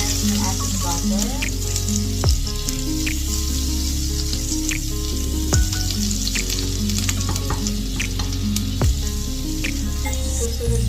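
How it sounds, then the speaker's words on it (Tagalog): Butter melting and sizzling in a frying pan beside salmon, a loud steady crackling fizz with periodic sharp pops and faint clatter underneath. "lalagay ko po yung remaining butter. Kailangan lang na-melt yung ating butter."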